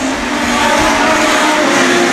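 Legend Cars race hard through a heat at the Summer Sizzle, engines roaring loud and steady at close range with a sustained tonal drone and no voices.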